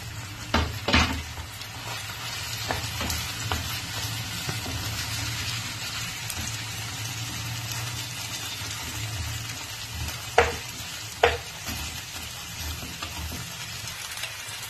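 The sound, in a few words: tomato frying with ginger and garlic in a pan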